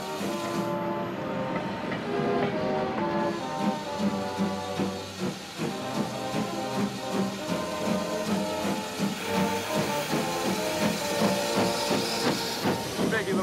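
A steam train hisses and chugs steadily nearby, with a dense, continuous rumble and metallic tones running throughout.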